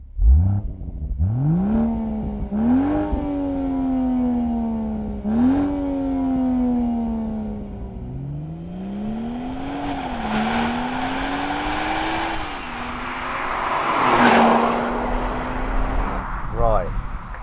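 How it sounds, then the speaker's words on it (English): An older six-cylinder BMW M135i engine revs repeatedly, rising and falling in pitch through several throttle blips, loud and close, with a steady rumble between pulls. "Now let's hear what this 6-cylinder sounds like."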